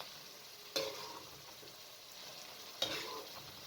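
Chicken with spinach and masala fried and stirred in a pan, a low steady sizzle with two sharp spoon scrapes, quiet and close, no voices.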